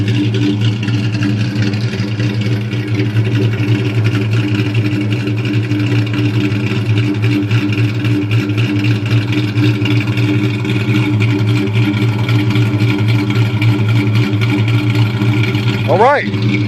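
A 2000 Ford Mustang GT V8 fitted with Violator glass pack mufflers and chrome dual exhaust tips idles steadily and loudly, a deep continuous rumble with no revving, close by for the whole stretch.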